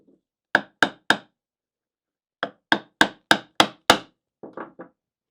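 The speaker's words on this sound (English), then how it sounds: "tilt the chisel to accommodate the pin." A mallet strikes a chisel while inlaid dovetails are cut by hand in wood, sharp close knocks in quick groups of three, then six, then three softer taps with silence between.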